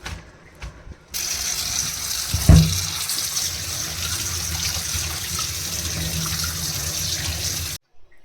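Water gushing steadily from a kitchen tap while food is washed in the sink, a loud, continuous splashing flow that starts abruptly and cuts off near the end.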